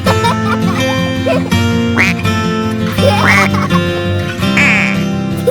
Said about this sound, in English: their characteristic quack quack can be heard from afar